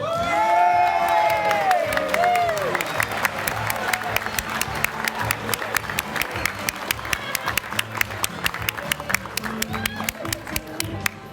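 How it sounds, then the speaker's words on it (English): Audience applause and cheering for a female comedian at a stand-up show, a dense burst of clapping with a few whoops, starting loud and continuing steadily as a crowded room keeps clapping. "Let's give a great round of applause to our own funny lady, Joey Sims."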